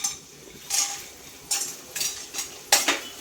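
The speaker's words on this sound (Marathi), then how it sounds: "तुपात अगोदर आपण डिंक भाजून घेऊया" Edible gum being fried in ghee in a pan on low heat, heard as soft bursts of sizzling and light utensil clinks at irregular intervals, with no talking.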